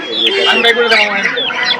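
Several chickens cluck and squawk close by at a busy poultry market, loud and busy, with people talking in the background.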